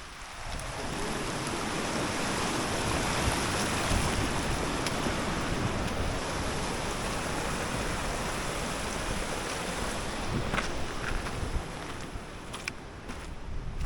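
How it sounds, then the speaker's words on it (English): A waterfall near an alpine lake on the Mount Whitney trail roars as a constant broadband rush, loud and close and unbroken from start to finish, with faint wind noise on top. "Got a pretty nice waterfall over here too"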